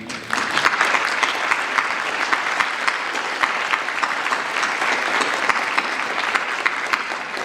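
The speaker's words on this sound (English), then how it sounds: "let us give you a round of applause and thank you" A large audience at a Veterans Day program claps continuously, a dense sustained wave of applause that holds steady from start to finish.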